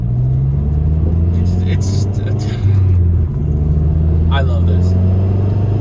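A turbocharged MazdaSpeed3 engine hums and rumbles steadily as the car accelerates on a canyon run. It has a low, sustained drone with a slight rise in pitch. A driver speaks briefly over it.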